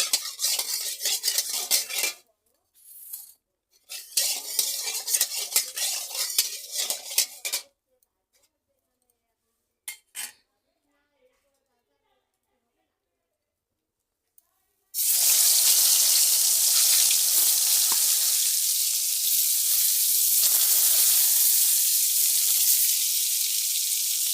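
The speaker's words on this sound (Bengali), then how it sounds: "এখন ভেজে রান্না করে নেব বেগুনগুলো এখন ভেজে নেব" Eggplant (brinjal) pieces fry in a pan. Bursts of utensil clatter and handling come first, then a gap, then a loud, even sizzle that runs on to the end.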